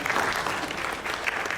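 Audience applause at a lecture session, a steady wash of clapping from a small group of about five people, close and continuous for a moment.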